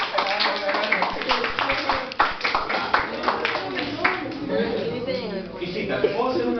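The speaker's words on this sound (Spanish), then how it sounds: "un aplauso para él" An audience claps at a school information talk about drugs, a dense burst of hand claps mixed with voices and room noise that lasts throughout.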